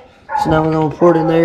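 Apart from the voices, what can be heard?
coon dog baying outside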